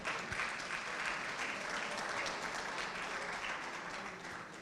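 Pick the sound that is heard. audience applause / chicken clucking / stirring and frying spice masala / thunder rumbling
audience applause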